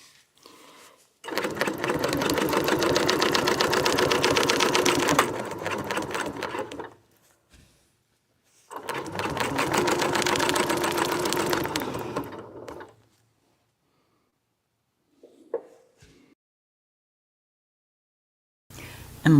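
A sewing machine stitches through a quilt in two steady, humming runs of several seconds each. Its rapid needle rhythm is close and loud, with brief quiet pauses and light handling between the runs.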